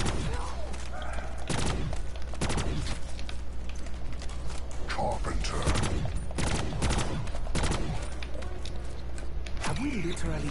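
Gunfire in a horror shooter game, a series of loud, sharp broadband shots fired in quick pairs and singles across the clip, close and punchy over a low constant background hum, with someone talking between the shots.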